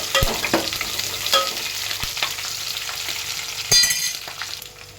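Chopped green chillies and onions fry and sizzle in a pan while being stirred, giving a steady hiss with sharp scraping clicks of the stirring spoon. No voices are heard.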